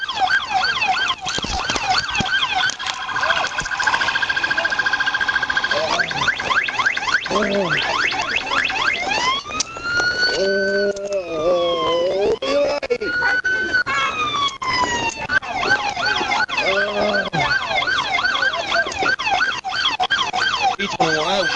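A loud police siren wails continuously up close, switching between rising-and-falling sweeps and rapid yelping patterns.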